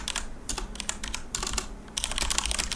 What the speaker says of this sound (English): You can hear the approximate volume of these keys.